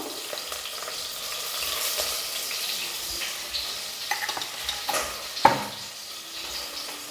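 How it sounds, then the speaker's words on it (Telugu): Onions, green chilies and curry leaves sizzle in hot oil for egg biryani, a steady crackling hiss close by, broken by a few light stirring scrapes and one sharper clink near the end, with no talking. "ఆయిల్ అయితే వేడైపోయింది. కట్ చేసిన ఉల్లిపాయలు, అలానే పచ్చిమిర్చి, కరివేపాకు,"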